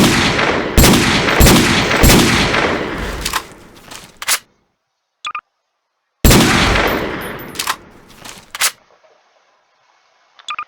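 Gunfire from a gun in Garry's Mod, loud rapid bursts of shots with ringing tails, two volleys separated by silence, plus a few single sharp clicks between them.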